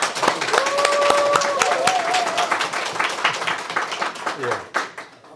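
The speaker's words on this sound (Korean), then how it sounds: "박수 한번 보내죠" Applause from a workshop audience: steady, fairly dense clapping through most of the stretch that thins out toward the end, mixed with a sung or sustained vocal tone and some voices.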